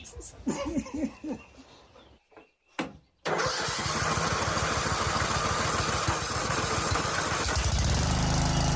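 A farm engine cranks with a few sputtering turns, falls quiet briefly, then catches and settles into a loud, steady idle, with people talking at the start.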